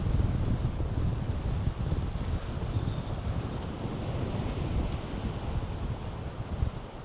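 Strong wind buffets the microphone steadily at Cockle Creek harbour in Tasmania, a loud, continuous low roar with gusts and a faint surf-like wash beneath, no voices.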